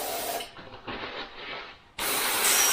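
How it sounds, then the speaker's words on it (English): Airbrush blasting cleaner through its nozzle, a close hissing spray in short bursts that ends with a louder, sharper blast. "Little blast through again with cleaner"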